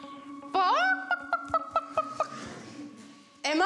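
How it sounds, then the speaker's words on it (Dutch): A chicken clucks loudly and close: a drawn-out squawk, then a quick run of rhythmic clucks, then a fresh squawk at the end. "Ja, een kip."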